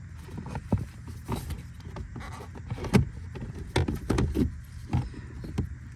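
A new Honda Accord AC blower motor slides into its housing under the dash, giving close scraping and rubbing plastic sounds with a few soft knocks, alone and fairly loud.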